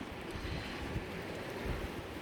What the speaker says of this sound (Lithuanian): Išgirskit jūros ošimą.